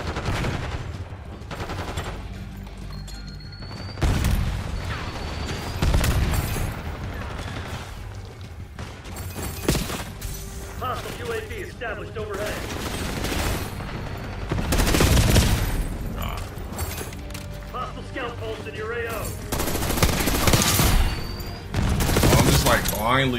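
Bursts of rapid gunfire from a first-person shooter game, loud and close, recurring in clusters throughout with brief pauses between, mixed with game sound effects and someone talking over it.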